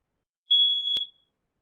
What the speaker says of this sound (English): it looks like there's a fire alarm going on.